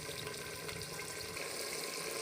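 Water poured into a pan of frying peas while making matar pulao, a steady, loud rushing hiss with sizzling texture running without a break throughout.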